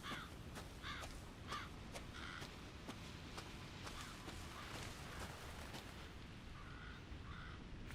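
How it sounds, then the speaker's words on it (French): Repeated harsh cawing of a crow in the horror game Resident Evil 7, several calls at a moderate level over a dense, rumbling ambient game background, with no talking. "Pourquoi le corbeau il s'est posé là?"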